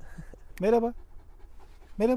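A large sheepdog named Kutup pants softly and rhythmically nearby, while a man greets it twice in a friendly voice.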